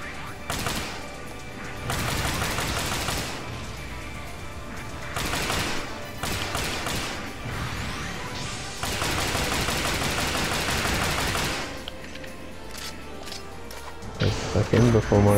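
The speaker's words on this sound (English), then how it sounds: "Shoot my shield with the Omega rifle." Rifle gunfire in the mecha combat game Gundam Battle Operation 2, with several loud bursts of rapid shots and crashing impacts mixed in, while someone talks over the action.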